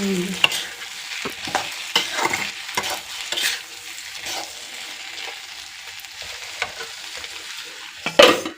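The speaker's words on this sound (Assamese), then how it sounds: "দেখিছেনে আলু ফ্ৰাই কৰি দিলোঁ" Potatoes frying in a pan at home, a close sizzle broken by repeated stirring and scraping, with a louder clatter near the end and no voices.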